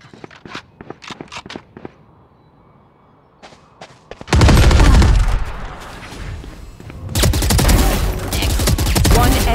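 Gunfire from the Valorant tactical shooter game: a run of sharp single shots, then long loud bursts of rapid fire and explosions that dominate, with a few quieter clicks and steps early on.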